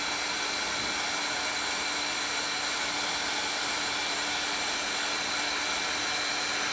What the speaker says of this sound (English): I have to heat up my gun. So here is the heat gun.